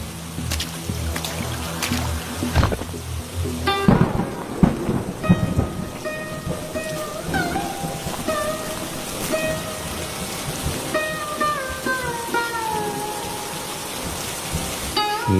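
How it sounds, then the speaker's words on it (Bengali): Cartoon sound effect of rain with thunder: a steady wash of rainfall with deep rumbling thunder, later joined by tonal, musical sounds, with no voices. "বৃষ্টি হচ্ছে এমনি"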